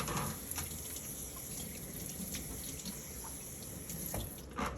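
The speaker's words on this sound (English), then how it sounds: "I'm using cold water to wash the chicken" Cold tap water runs steadily into a kitchen sink while raw chicken is washed, a continuous splashing stream with faint drips and no talking.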